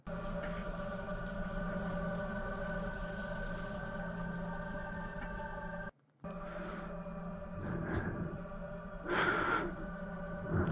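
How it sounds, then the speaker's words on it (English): Heavy, raspy, pained breathing from a woman, close up over a humming background, with a couple of sharper gasping breaths toward the end. "Strange, raspy, and painful breathing from what sounds like a woman."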